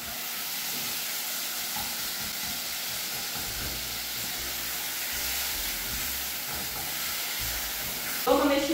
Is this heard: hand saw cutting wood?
no